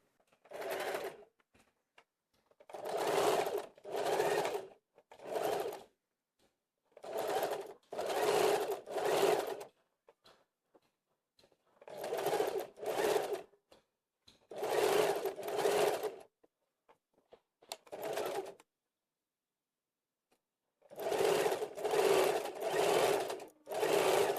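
A sewing machine stitches piping around a churidar neck, running in repeated short bursts of rapid whirring with pauses between, close and clear, no talking.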